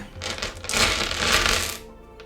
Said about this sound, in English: So that noise is just me emptying my dice bag.